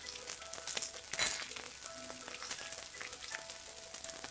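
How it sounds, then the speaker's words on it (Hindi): Curry leaves, green chilli and asafoetida sizzle steadily in hot oil on low heat, a close, crackly hiss with a few sharper pops, no voices. "अब हम इसमें कड़ी पत्ता डालेंगे, हरी मिर्च डालेंगे, अब हींग डालेंगे"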